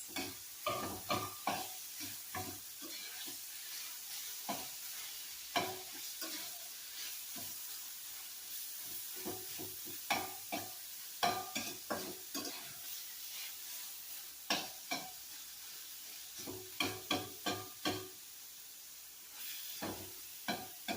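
Fish for fish tacos fries in hot oil, a soft steady sizzle broken by repeated crisp crackling bursts and clicks of stirring or handling, close and alone without talk.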